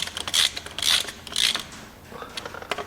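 Metal ratcheting and clinking of a 3/4 spanner starting oiled flywheel bolts on a Massey Ferguson 135 six-speed tractor, in three close, bright bursts followed by lighter ticks.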